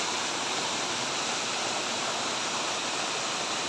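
Manpilavu waterfall roars in a loud, steady rush of falling water, close and continuous from start to finish with no voices.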